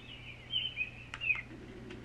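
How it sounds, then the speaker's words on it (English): A few high bird chirps and whistles over a steady low background hum, fairly faint and spaced apart. "Singing birds."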